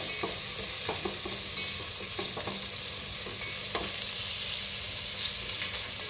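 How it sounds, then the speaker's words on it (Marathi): Finely chopped onions for chicken biryani are stirred and sautéed in a pan, giving a close, steady sizzle punctuated by repeated spatula scrapes and knocks. No one speaks. "व्यवस्थित आपण हे परतवून घ्यायचं आहे।"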